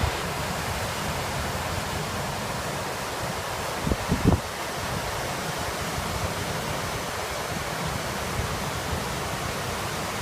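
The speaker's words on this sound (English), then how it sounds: "Here we are at the waterfall." A waterfall roars as a steady, broad wash of falling water, loud and close, with a few brief bumps and gusts of wind against the microphone partway through.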